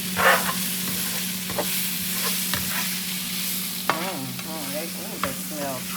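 Brussels sprouts frying in a pan and being stirred, with a steady, close sizzle and crackle and a few scraping strokes and light clatters spread through it.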